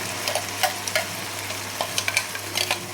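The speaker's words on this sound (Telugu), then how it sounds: "ఇప్పుడు మిక్సీ వేసుకున్న మిశ్రమాన్ని దీంట్లో వేసేసుకున్నాం" Blended onion and tomato mixture with salt and chili frying in a pan for egg tomato masala, a constant sizzle broken by scattered spatula clicks and scrapes close by.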